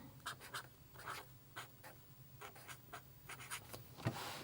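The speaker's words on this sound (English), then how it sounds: "I'm going to use the bullet tip and write notes." A bullet-tip pen scratching out notes on a planner page, short close strokes in quick bursts with brief pauses between words, alone in a quiet room.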